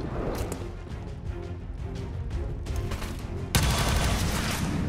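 Rapid gunfire in the turn-based strategy game XCOM 2, aimed at a poisoned, burning Muton alien. The shots form a loud, dense, continuous barrage that jumps sharply harder partway through, with no talking over it.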